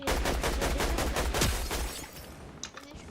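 Rapid automatic gunfire rattles in a battle royale video game, a dense, loud burst of shots for about two seconds that then drops to quieter scattered game sounds.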